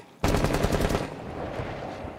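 Rapid gunfire in Rainbow Six Siege: a sudden loud automatic burst of closely spaced shots, followed by a ringing, echoing tail that fades slowly.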